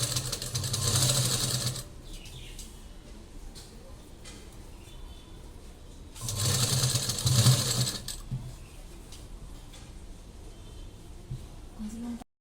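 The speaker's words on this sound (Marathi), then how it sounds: "शिलाई करून घ्यायची आहे इथून आणि शिलाई आपली पक्की करायची आहे आणि हळूहळू घ्यायचं आहे" A sewing machine stitches piping onto a lined blouse in two short, steady whirring bursts with pauses between them, while someone talks nearby.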